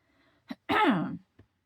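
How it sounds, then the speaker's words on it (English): A single raspy throat clearing, close and fairly loud, with a short breath before it and a faint click after; no talking. "Clear my throat."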